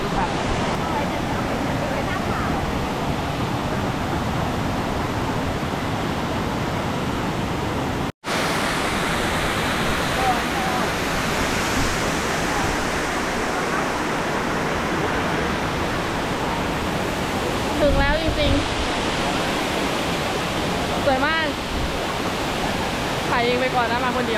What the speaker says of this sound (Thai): น้ำตกสาริกา ในที่สุดเราก็มาถึงแล้ว อันนี้อยู่จังหวัดนครนายกนะคะ